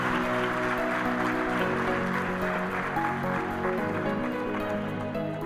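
Sustained applause from an audience, a dense steady patter of clapping with faint music-like tones underneath, continuing without pause.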